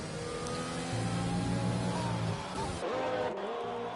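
Formula 1 cars in a video game league race at the Austria circuit, loud engine whine holding steady then shifting pitch as cars pass, a commentator talking over it.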